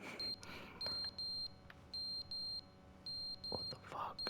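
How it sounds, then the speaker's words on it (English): A fire alarm in The Stanley Parable: Ultra Deluxe beeps in a steady repeating pattern of short high electronic tones, clear and close, with faint background noise. "Why is the fire alarm going off?"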